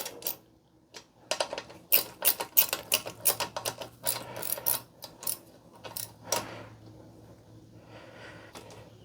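A ratchet snugs the caliper bolts on the front brakes of a 2018 or later Harley-Davidson Softail, with bursts of close, quick clicking and light metal taps, then a quieter stretch.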